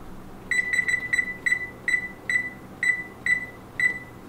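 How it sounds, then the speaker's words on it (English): A kitchen timer gives about a dozen short, sharp electronic beeps in an uneven series as buttons are pressed, clear and close over faint room hum. "we are going to set the timer now"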